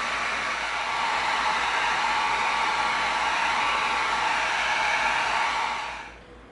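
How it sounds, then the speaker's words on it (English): A heat gun blows steadily on a piece of EVA foam for about six seconds, a loud continuous airy roar with no talk, then it cuts off and fades at the end. "we're gonna get our heat gun out, we're gonna heat this piece up"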